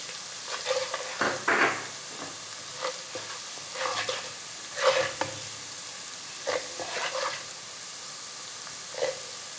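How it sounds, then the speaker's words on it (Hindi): Crushed red chilli and turmeric powder fry in a pan for chicken karahi, with a steady close sizzle and scattered stirring scrapes throughout. "कुटी हुई लाल मिर्च, हल्दी पाउडर, इन्हें हल्का सा हमने भूनना है।"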